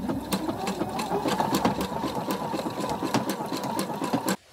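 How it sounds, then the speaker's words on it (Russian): Sewing machine running a cross-stitch seam with a connecting-seam presser foot, a fast steady mechanical chatter of needle strokes, close and loud, stopping abruptly at the end. "Например, я хочу выполнить строчку крестиком по центру."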